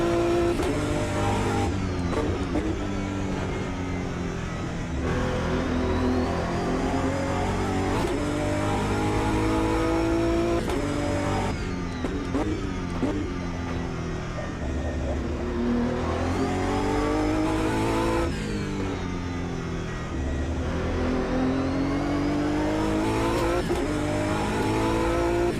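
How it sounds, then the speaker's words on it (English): GT3 race car engine and exhaust in the racing game Automobilista 2, loud and continuous, rising and falling in pitch through repeated upshifts and downshifts, with the exhaust note echoing off a trackside wall. "Cool to hear that exhaust reverberating off that wall."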